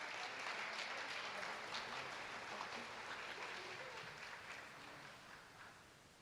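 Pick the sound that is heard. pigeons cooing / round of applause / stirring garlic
round of applause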